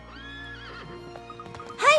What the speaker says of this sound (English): This horse is certainly spirited.